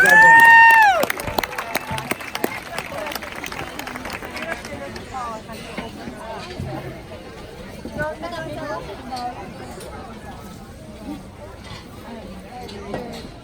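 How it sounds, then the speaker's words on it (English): An audience claps for kids leaving the livestock show ring at a county swine show, a loud burst of applause at the start that fades into crowd murmur and scattered movement, with a voice speaking over it. "let's give all these kids a round of applause"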